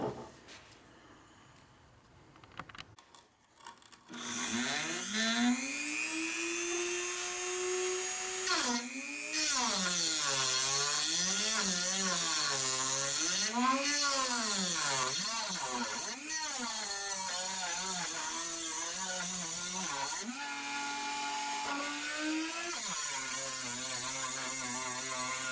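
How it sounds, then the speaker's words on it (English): An abrasive cutting disc and a grindstone work a steel blank for a carbide woodturning tool, a loud continuous whine that rises and dips in pitch as the tool bites and eases off. "After removing the bulk of the material with a abrasive cutting disc, I used a grindstone to flatten the mounting surface"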